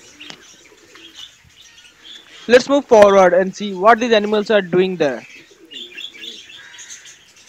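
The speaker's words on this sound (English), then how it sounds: "You can see over there birds looking like pigeons, but they are not pigeons. They are the doves." Doves in a pet enclosure coo and chirp softly with scattered short calls, some faint wing flaps, partly under someone speaking in the middle.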